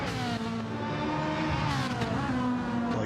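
Race cars from a classic racing video game on the Deep Forest track, engines droning and revving continuously up close with shifting pitch and faint tire squeal, no talk over them.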